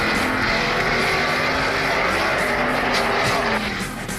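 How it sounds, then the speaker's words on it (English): NASCAR stock cars roar around the Martinsville short track during the 2003 Subway 500, a loud continuous engine drone with crowd and track noise. "Kurt Busch, kind of the meat in a race car sandwich."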